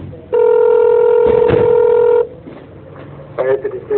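A telephone sounds a loud, steady pair of tones for about two seconds, stopping abruptly, after which quieter sounds and a brief burst of voice follow.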